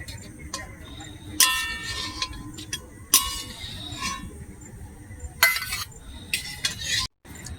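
Metal utensils clank and clink against a pot and bowl while boiled rohu fish is lifted out, several sharp bright knocks spaced irregularly over a low background hum.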